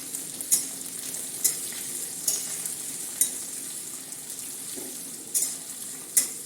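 Small chopped onions fry in oil for jowar flour upma while being stirred, a continuous soft sizzle punctuated by regular sharp scrapes and taps of a spoon against the pan about once a second; no voices.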